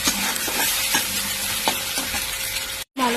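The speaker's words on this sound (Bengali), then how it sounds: "ভালো করে মশলাটা কষে নেবো।" Spice paste of ginger, garlic, dried chili, cumin, turmeric, tomato and salt sizzles in hot oil while being stirred, a loud steady frying hiss with spoon scrapes, briefly cut off near the end.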